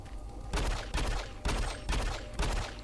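Machine gun fire in the video game Doom 3 BFG on PS3 comes as about five short, sharp bursts in a quick, fairly even rhythm, moderately loud over quiet game ambience.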